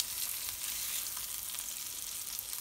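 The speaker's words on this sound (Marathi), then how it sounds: "आपण आता तो चांगला फ्राय करून घेऊया." Pieces of ravas fish fry in a little oil in a non-stick pan, giving a soft, continuous high sizzle that stays fairly quiet and even throughout.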